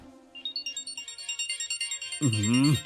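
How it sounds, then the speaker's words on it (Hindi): A phone ringtone chirps in a steady, rapid repeating pattern at close range, then a voice cuts in over the last moment of ringing. "देख किसका फोन है।"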